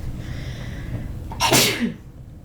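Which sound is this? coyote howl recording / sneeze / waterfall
sneeze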